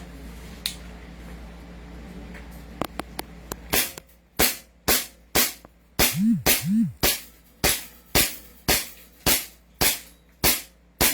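A JWC Pit Viper gun fires repeatedly in a fast run of sharp, close snapping shots, about a dozen in steady rhythm after a few faint clicks, with no talk.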